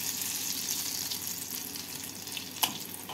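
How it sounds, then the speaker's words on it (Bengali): Lentil-paste fritters frying in hot oil in a kadai and being flipped, a steady close sizzle with a sharp clink of the utensil near the end. "বড়াগুলোকে তেলের মধ্যে উল্টে পাল্টে লাল করে ভেজে নেব।"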